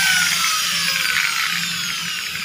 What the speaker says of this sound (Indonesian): ginagamitan ng bor